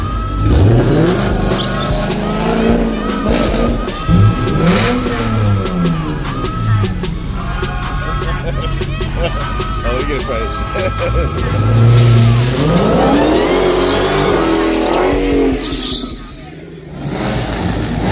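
A Mopar car at an underground pop-up car meet revs hard in repeated rising and falling pulls, loud and close, with crowd chatter around it before the engine drops off near the end.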